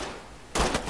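A short burst of gunfire in the tactical shooter video game Ready or Not cracks out after half a second of quiet, loud and sharp with a few rapid follow-up shots.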